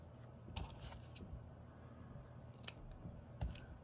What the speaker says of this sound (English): We're going to take our 2x3 piece of fur and we're going to cut it